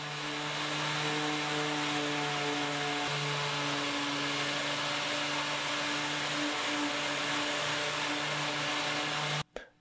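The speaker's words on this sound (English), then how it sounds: "I threw on 150 grit sanding mesh and I started sanding the Bondo smooth." A power sander fitted with 150 grit sanding mesh smooths hardened Bondo filler on a painted chest of drawers, a loud continuous motor whine and hiss that cuts off abruptly near the end.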